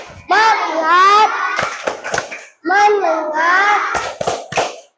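A classroom of children chants in unison and claps their hands in rhythmic bursts, loud and close, with a teacher leading the clapping chant.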